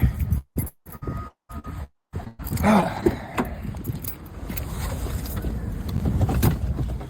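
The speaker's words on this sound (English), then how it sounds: "let me get in the car for a second." Someone getting into a car: rustling and handling noises with brief gaps, a door and seat shuffle, then a steady interior hum and faint movement close to the recorder, without speech.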